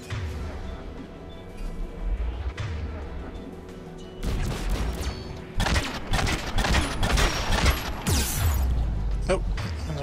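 Anti-aircraft guns firing on Rannoch in Mass Effect 3, booming volleys and crashes building in intensity amid combat noise, with voices talking over the barrage.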